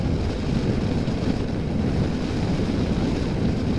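Steady, heavy wind buffeting roars across the whole clip while riding a KTM 1290 Adventure R motorcycle into a headwind, a constant low rumble with no gaps and no voices.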